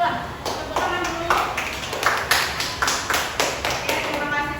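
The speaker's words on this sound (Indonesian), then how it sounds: "Oke, tepuk tangan dulu lah." Students in a classroom clap together in a steady run of sharp, close claps lasting several seconds, with some voices mixed in.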